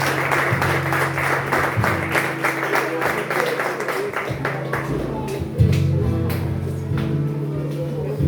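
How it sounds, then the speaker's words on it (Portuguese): Church congregation applauds during a Carnival communion service, sustained crowd clapping over a low, droning instrumental hum that continues throughout. "Dá um aplauso ao Senhor"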